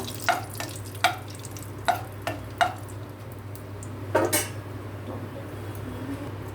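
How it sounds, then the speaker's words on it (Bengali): A spoon stirs a dried red chili tempering in a pan for an egg papad omelette, giving about seven distinct scraping clinks over a steady low sizzle and kitchen hum. No one speaks. "এবার একটু সুন্দর করে এটা নেড়ে নেব।"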